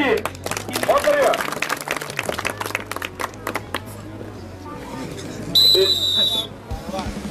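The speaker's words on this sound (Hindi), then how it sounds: "सभी लोग ताली बजाइए" Crowd clapping at an Uttar Pradesh Kesari wrestling bout, a loose burst of applause in the first half under a busy outdoor hubbub, with someone speaking over it and a shrill whistle near the end.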